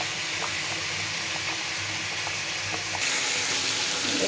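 Fresh prawns fry in a hot pan for a home-style Odia prawn curry, a continuous close sizzle with soft stirring clicks that grows louder and brighter partway through.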